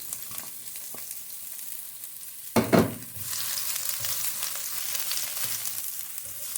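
Minced garlic hits a hot pan and bursts into a loud sizzle, which settles into a steady, bright frying hiss that carries on close by without any talking.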